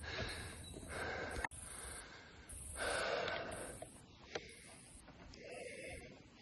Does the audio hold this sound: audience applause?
no